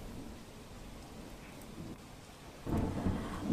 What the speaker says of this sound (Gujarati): કેશોદ શહેરમાં ધીમી ધારે વરસાદ શરૂ થયો